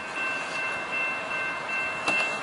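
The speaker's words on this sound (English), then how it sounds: "here comes another southbound train about to fly through. Fly through Del Mar here." A southbound train speeds through Del Mar station on a sunny day, a steady broad rushing roar of passing cars with a faint whistling tone and a brief clank near the end, no voices.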